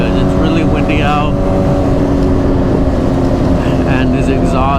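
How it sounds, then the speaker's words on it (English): A loud motorcycle exhaust on a Suzuki GSX-R750 with an M4 exhaust rumbles continuously with a constant engine drone, heavy wind noise over it and occasional voices in the background. "this exhaust is freaking loud"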